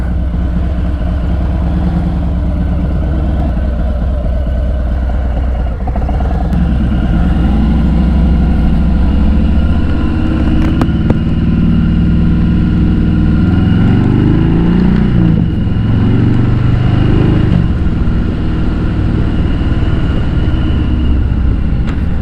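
Motorcycle engine running while riding, recorded from a camera clamped to the engine guard: a loud, continuous low rumble with wind noise and shifting engine pitch, no voices.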